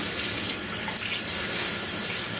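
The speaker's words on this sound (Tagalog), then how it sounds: "Hugasan muna natin siya kasi Marumi yung kanyang mga tangkay." Running tap water pours steadily into a sink while vegetable stems are rinsed under it, a close, continuous hiss and splash with no talking.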